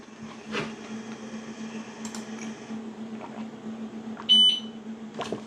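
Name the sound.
laser engraver ready beep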